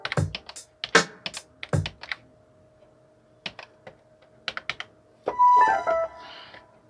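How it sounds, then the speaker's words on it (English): Buttons pressed on a Yamaha MX49 keyboard synthesizer, a run of quick plastic clicks in short bursts, close and fairly quiet, with a brief electronic tone near the end. "It's a lot of button pushing."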